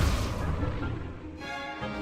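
An Incendio fire spell is cast in Hogwarts Legacy, giving a short, loud, booming whoosh of flame that fades quickly.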